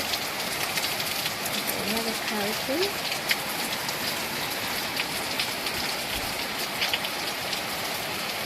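Dense, constant downpour drums on surfaces, loud and close, while a person speaks briefly over the rain.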